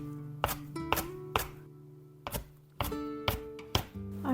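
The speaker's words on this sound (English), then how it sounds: "Go ahead and give this a few chops." A knife chops through small garden kale and basil on a cutting board, about eight crisp, close knocks in an uneven rhythm, each a sharp tap over a faint steady hum in the kitchen.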